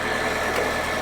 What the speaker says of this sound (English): Right, nice clean engine actually for once. It sounds perfect.